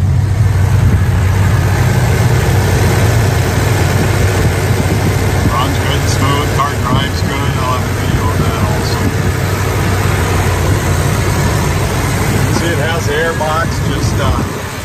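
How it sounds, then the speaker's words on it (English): Engine of a 1965 Plymouth Barracuda idling at an outdoor car show, a loud steady low rumble that runs throughout, with people talking over it in the background. "let's take a listen to the engine"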